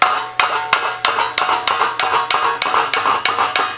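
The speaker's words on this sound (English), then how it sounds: "you can take the hammer and dolly and you can" A hammer and dolly strike a welded metal panel in a steady rhythm of about a dozen sharp, ringing metallic blows, each decaying quickly, close and loud with no voices.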